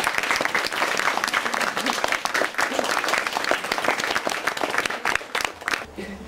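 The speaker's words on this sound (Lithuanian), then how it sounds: "Pasitikime ją plojimais" Audience applause welcoming a guest artist, painter and poet, at a puppet theatre gathering: dense, sustained clapping from a sizeable crowd that holds steady for several seconds, then thins toward the end.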